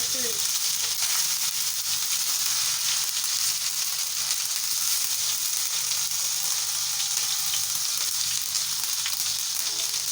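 Tomatoes sizzle and crackle steadily in a hot pan, a loud continuous frying hiss throughout.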